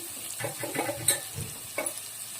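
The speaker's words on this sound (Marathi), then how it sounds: "आणि आता आपण घालतोय कांदा।" Chopped onion goes into a pan of frying baby jackfruit vegetable and is stirred, a soft sizzle under scraping spoon strokes with a couple of small clinks against the pan.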